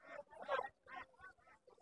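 Beijing ducks weighing 3 to 3.5 kg at a weekly poultry market in Sirajdikhan, a short run of about five or six nasal quacking calls, close but quiet, with no talk.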